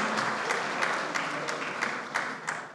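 Audience at a television channel launch event applauding the Swiss ambassador, a fairly quiet, steady patter of many hands with a few louder claps standing out, heard alone without speech.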